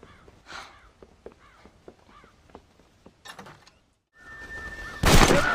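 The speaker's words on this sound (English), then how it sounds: "God damn crows!" Crows cawing amid scattered gunshots in the Red Dead Redemption video game, a series of sharp pops and caws, then a louder burst of noise at the end.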